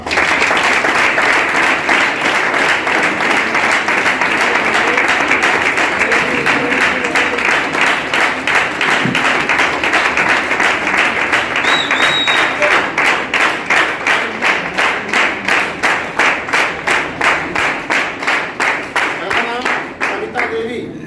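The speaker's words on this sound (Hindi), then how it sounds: "हेलो ताली बजाएंगे जोरदार।" Loud sustained applause from an audience at a family ceremony, dense clapping that settles into a rhythmic unified beat before fading toward the end, with a voice over it at times.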